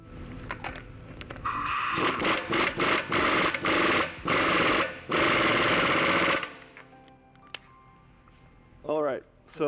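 Bursts of a power impact wrench tightening an axle nut while installing a truck leveling or lift kit, loud repeated rattling pulses for several seconds, followed by quieter shop sounds and a brief voice.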